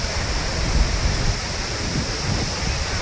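Courtallam falls pouring steadily, a dense continuous rush of falling water with low rumbling churn, close and loud with no voices.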